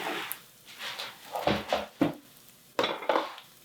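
Dishes and pots being washed up in a home kitchen while cooking a vegetable curry: scattered clinks and knocks of crockery and cutlery, with a few sharper clatters, close and moderately loud.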